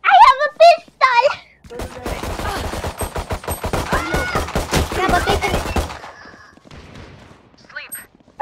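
Pistol and rifle fire in the shooter game Valorant, a rapid burst of loud sharp shots lasting several seconds, with excited voices before it and faint game sounds after it.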